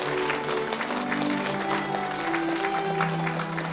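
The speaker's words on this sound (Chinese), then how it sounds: "谢谢大家的掌声" Guests at a wedding ceremony give a warm round of applause, a dense, continuous patter of clapping from a crowd that holds steady for several seconds.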